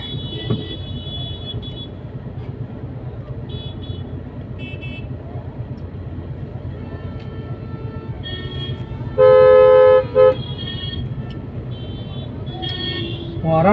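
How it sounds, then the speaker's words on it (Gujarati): Vehicle horns honk over a constant engine rumble in a traffic jam in Uttar Pradesh, with scattered short toots and one loud, sustained blast standing out close by. "હોર્ન મારો કે ના મારો"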